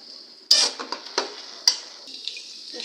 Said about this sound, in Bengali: পেঁয়াজ রসুন ভেজে নিচ্ছি